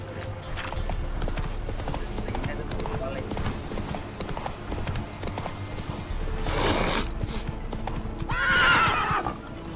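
Horse hooves clip-clopping at a steady gait in The Witcher 3, with a loud whinnying neigh near the end and a voice speaking over it.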